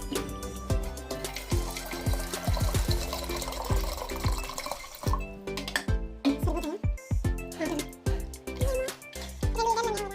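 About 2.5 litres of water poured over roughly 120 grams of nannari roots in a kitchen vessel, splashing and gurgling steadily with light clinks from the container, close and clear throughout.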